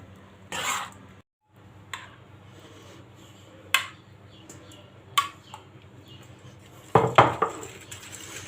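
Boiled manti are drained in a metal colander and rinsed under cold water, with a close run of water, clanks and knocks of kitchenware at intervals, and a louder clatter near the end.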